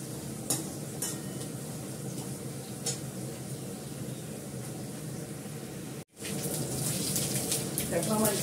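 Onion, potato and curry leaves frying in a pan, a soft steady sizzle with stirring scrapes and occasional clatters, close by, with a brief silent break before the sizzle resumes slightly louder.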